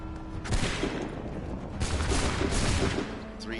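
Soldiers fire a musket volley in Assassin's Creed 3, heavy overlapping gun blasts rolling out in two dense bursts, close and loud, with shouting mixed into the din.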